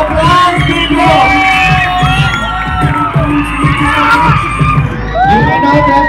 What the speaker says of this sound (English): Let's give them a big round of applause to you.